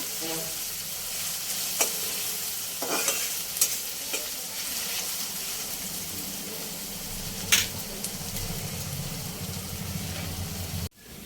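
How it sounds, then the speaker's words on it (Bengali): Small chopped onions frying in a pan while cooking chicken, a continuous close sizzle with a few spoon clinks and stirring scrapes, ending abruptly. "পেঁয়াজটা লাল করে ভেজে নিতে হবে।"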